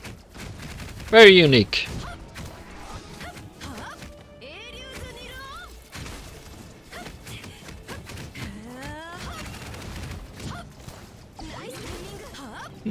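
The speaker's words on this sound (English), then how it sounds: "this Cullen's ultimate summons turrets" Turrets summoned by Cullen's ultimate in the game Honkai Impact 3rd fire rapid bursts of shots and sharp impacts among other game effects, with a loud burst early on and a voice talking over the action.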